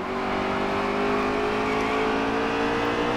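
NASCAR Heat 3 race cars circle Bristol's night race, a dense, steady engine roar from a pack of stock cars held at high revs, loud and continuous.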